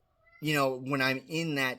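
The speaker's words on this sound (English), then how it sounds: "By the way, that's a cat, by the way." A cat meows in two or three drawn-out, rising and falling calls, close and clear, overlapping with a person talking.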